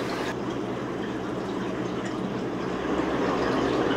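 Liquid algae culture being poured into a large flask, a steady continuous splashing fill with no breaks, close and moderately loud, with no voices.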